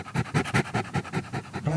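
Recorded dog panting, a run of quick rhythmic breaths, steady and fairly close, heard alone with no talking.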